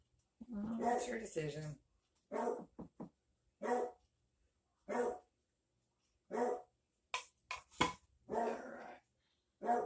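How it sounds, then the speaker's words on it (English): A dog barks in short, separate bursts spread across the recording, fairly close, while a person speaks briefly. "I'm sorry if you can hear the barking."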